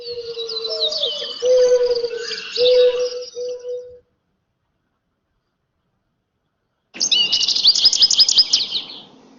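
A mourning dove gives low, soft, hollow coos under brighter bird chirps, followed by a few seconds of silence and then a burst of high twittering.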